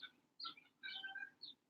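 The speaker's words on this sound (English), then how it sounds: "Sorry for this noise out here with these birds." Birds chirping outside an open window, three short bright bursts of high twittering calls with brief gaps between, faint and somewhat distant.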